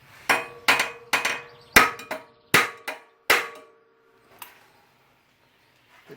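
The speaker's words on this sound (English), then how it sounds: "Now we're going to hit it with a hammer." Hammer striking a seized part on a locked-up Kohler engine from a Husqvarna zero-turn mower, about eight sharp metallic blows in an uneven rhythm, each ringing briefly. A fainter tap follows after a pause, with no talk.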